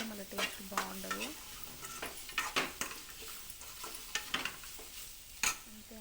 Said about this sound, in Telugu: లైట్గా 2 సార్లు అట్లా కలిపి ఎమ్మటే బంద్ చేయాలి